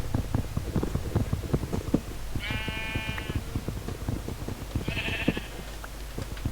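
Two short sheep bleats from Minecraft, one near the middle and a second shorter one soon after, over constant crunchy footsteps and block-breaking thuds in the game.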